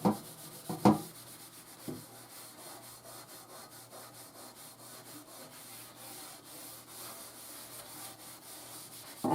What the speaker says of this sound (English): I am putting some elbow grease as I'm scrubbing.